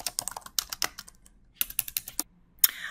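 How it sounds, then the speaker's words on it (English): Fast, uneven bursts of key clicks from a computer keyboard as text is typed into Maple software, with short pauses between runs of keystrokes and one sharper tap near the end, close and clear with no talking. "So let me type in text mode what I'm going to do."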